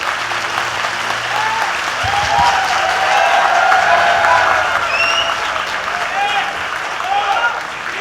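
Sustained applause from a large audience, dense clapping swelling in the middle and continuing throughout, with faint voices and whoops mixed in.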